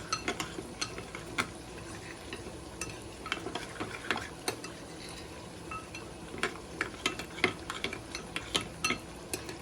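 Achar masala is stirred into chicken with squeezed lemon juice for achari chicken, a soft run of wet squelches and light scraping taps, quiet and close, with no talking.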